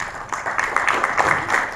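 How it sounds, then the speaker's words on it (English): Audience applause at a hotel event, a steady wash of many hands clapping for under two seconds with small rises and falls, moderately loud and crowd-like, with no talking over it. "we would like to hear many, many applauses as we go along"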